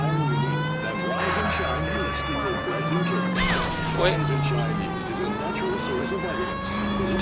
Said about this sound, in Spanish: al menos con la sirena se apartarán todos